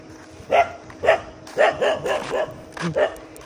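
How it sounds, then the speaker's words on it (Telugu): Several dogs bark at a walker outside a village, about seven sharp barks in quick irregular succession, close and loud. "కుక్కలు మాత్రం నన్ను వదిలిపెట్టట్లేదు భయ్య"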